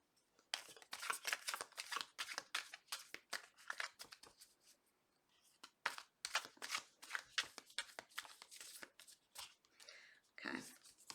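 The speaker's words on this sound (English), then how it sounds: "Two more shuffles." Tarot cards are shuffled close by in quick, uneven bursts of crisp riffling and slapping, a soft rustle running between them, repeating for several seconds before a final shuffle near the end.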